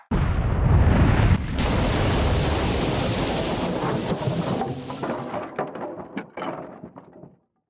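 Mortar fire lands in a heavy, rumbling explosion that roars loudly and then breaks into crackling, sputtering debris before it fades out to silence.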